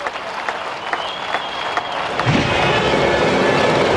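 An enormous crowd applauds at a World Touring Car Championship race, a dense wash of clapping and cheering that swells toward the end, mixed with broad engine-like rumble.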